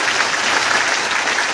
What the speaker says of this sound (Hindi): एक बार वेस्टीज मैनेजमेंट के लिए जोरदार तालियां